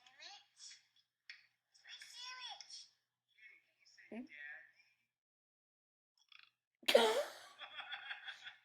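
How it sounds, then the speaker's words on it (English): A short, loud burp erupts in a funny home clip, following scattered child chatter and giggling, with a brief laugh-like tail after it. "That is a burp."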